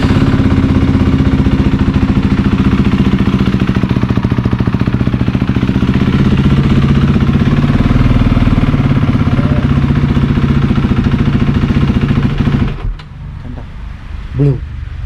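A motorcycle engine runs at a steady idle in neutral for about twelve seconds, a close, even mechanical hum that suddenly drops away into quiet with a few faint clicks.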